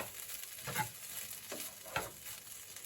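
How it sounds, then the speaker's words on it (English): Prawns frying in a pan for a jerk mushroom bulgur stir fry, a soft steady sizzle with a few scraping stirs of the spoon, quiet and close. "So there are my prawns going in there."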